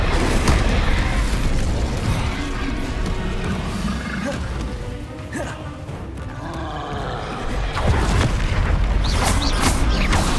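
Confringo and Incendio spell blasts in Hogwarts Legacy roar as dense, loud fiery bursts and booms that overlap one after another, with a brief lull mid-way before another heavy barrage of explosions.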